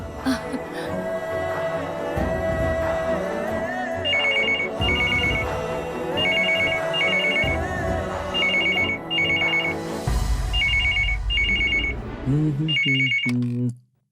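A landline telephone rings in a Malayalam TV serial scene, sounding as repeated double bursts of ringing over steady background music, continuing for about fourteen seconds before cutting off.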